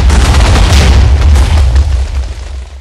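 A concealed house bomb explodes in Minecraft with a loud, deep boom and a heavy rumbling roar that carries for a couple of seconds before fading.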